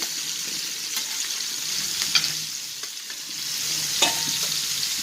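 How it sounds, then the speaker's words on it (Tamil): Anchovies roast in coconut oil on a wide, thick-bottomed tava, giving a steady close sizzle broken by a few light scrapes and taps from stirring, with no talking. "அப்படியே மீன் ரோஸ்ட் ஆகட்டும்."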